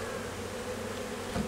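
Honeybees in a crowded hive give off a steady, close buzzing hum, quiet and continuous, with a brief low thump at the end.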